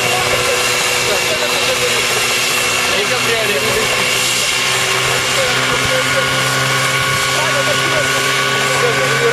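A homemade helicopter flies nearby with a loud, steady, droning whir that holds unbroken from start to finish.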